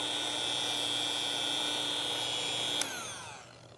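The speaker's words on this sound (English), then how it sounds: "gives me a nice, even cut with a very slight tilt to the polisher" A rotary car polisher fitted with an extension buffs paint with a steady, loud whine and a strong high tone, then cuts off with a click near the end and leaves a fading spin-down.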